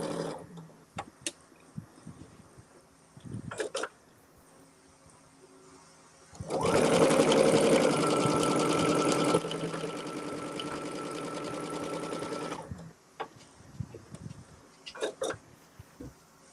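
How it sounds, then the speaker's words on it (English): A domestic sewing machine stitches quilt blocks along the diagonal, running loud and steady for about six seconds, with scattered handling clicks and rustles before and after. "So I can take these and I'll go ahead and sew these."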